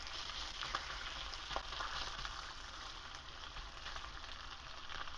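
Bacon sizzles and fries steadily in a pan, a soft, continuous crackle with faint pops, fairly quiet and with no talking.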